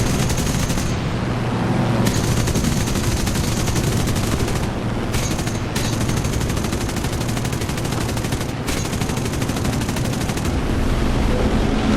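Aircraft cannons fire in a War Thunder air battle with RAF planes, sustained loud rapid bursts that run almost continuously and pause briefly a few times.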